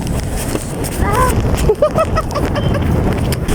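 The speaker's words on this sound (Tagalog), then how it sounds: "Tapos sobrang lumakas yung hangin dito." Strong wind roars and buffets the microphone continuously on a motorcycle taxi ride, with muffled voices and scattered knocks underneath.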